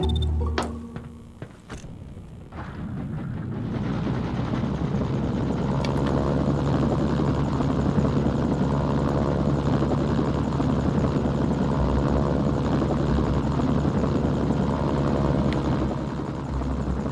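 A few sharp clicks, then a helicopter's rotor and engine in the video game Mercenaries swell into a loud, constant chopping roar that holds steady.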